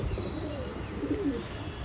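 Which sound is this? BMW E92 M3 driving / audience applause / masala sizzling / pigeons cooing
pigeons cooing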